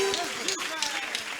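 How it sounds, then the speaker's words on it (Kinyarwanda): Applause from a church congregation during a service with a bishop and two others, a brief burst of clapping and crowd noise mixed with voices and hubbub. "Komere Imana amashyi."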